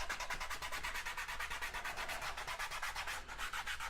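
Tape rubbed down onto the wing of a SIG Super Chipmunk model airplane during its build, a close, steady back-and-forth scrubbing in quick regular strokes, heard alone.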